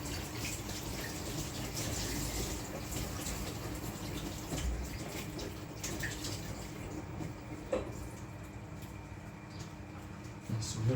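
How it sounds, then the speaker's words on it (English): Tap water runs steadily as a cloth is rinsed in a sink after dyeing yarn, a continuous close splashing wash with small handling noises. "let's rinse out this cloth here."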